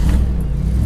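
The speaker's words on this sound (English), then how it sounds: "one of the main traits and features of the Triumph Stag is in that wonderful V8 engine burble" A deep, steady Triumph Stag V8 engine burble idles close by, low and rumbling with a slightly uneven pulse throughout.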